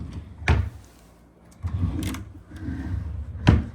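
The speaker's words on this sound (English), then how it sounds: "These drawers all do open." Hotel room drawers at the Twelve Oaks Inn in Branson, Missouri, are slid open and shut, giving sharp wooden knocks and thuds separated by short rumbling slides, close by.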